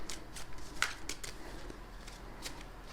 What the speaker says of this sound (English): So what happens when you practice your shuffling?